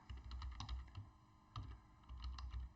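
Quick, close keystrokes clatter on a computer keyboard while someone writes Python code, coming in short irregular runs with a small pause midway and no talk.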